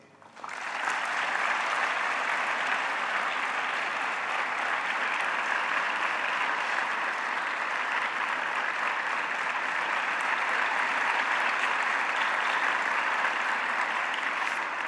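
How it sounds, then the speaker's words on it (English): A conference audience claps steadily and densely for about fifteen seconds. The dense applause starts abruptly, holds an even level throughout, and comes from a large hall crowd with no talking over it. "A round of applause, please."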